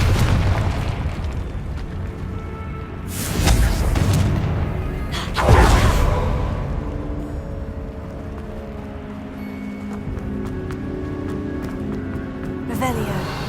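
Confringo spell explosions in the video game Hogwarts Legacy burst out as two loud booms a couple of seconds apart, sitting over a rumbling game soundscape with spoken dialogue around them.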